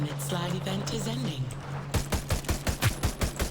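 Rapid automatic gunfire rattles out in a fast, even burst of close shots in the Hyper Scape shooter game, following a moment of talking.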